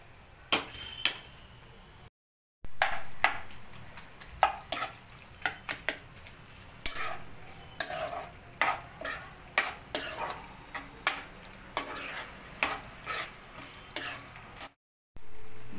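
Boiled pasta is stirred into a white cheese sauce in a pan, with a long run of rhythmic, close spoon taps and scrapes against the pan, steady and fairly quiet, with a couple of brief silent gaps.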